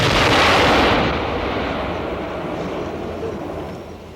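An artillery battery firing for effect during the Vietnam War: a heavy booming blast that rumbles loudly at first, then rolls away into a long fading reverberation.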